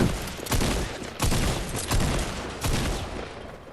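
Rapid gunfire in the video game Fortnite, several loud bursts of shots following one another closely over a steady din, with no talk over it.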